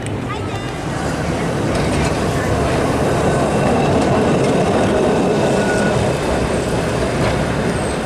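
A TransPennine Express train from York hums and rumbles along the rails, heard from inside the carriage as a steady, close, continuous roll with faint rhythmic clatter, and a voice talking over it.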